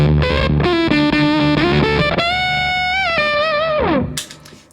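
Electric guitar through a Tru-Fi fuzz pedal in germanium mode with the bias knob set for a spitty, sputtering distortion, a few sustained buzzy notes and a bend, then a fading decay.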